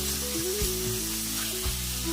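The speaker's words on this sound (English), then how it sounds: "Fry for about a minute." Chopped onions with a little salt frying in vegetable oil in a pot make a soft, steady sizzle with a couple of faint knocks.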